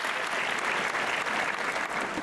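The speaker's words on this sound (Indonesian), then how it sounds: "Kita berikan aplaus dulu dah." Steady, full applause from a seated audience at a business talk show, dense continuous clapping with some crowd noise, loud and close throughout.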